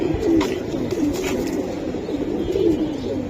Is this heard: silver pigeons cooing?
yes